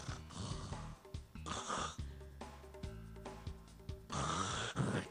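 A doctor imitates snoring with his voice, producing a series of rough, rattling inhaled snorts and throaty grunts that come in uneven bursts, close and fairly quiet.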